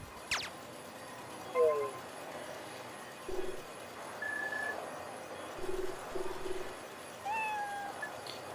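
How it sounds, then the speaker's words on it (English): A cat meowing in the Wii role-playing game Opoona, a few short, faint meows set against quiet game background sound. "Meow. This cat has a fine fur."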